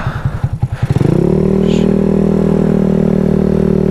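A modified Honda Ruckus scooter engine, close by, gives a rapid string of uneven chugging pops before settling into a loud, steady droning idle as the ride begins.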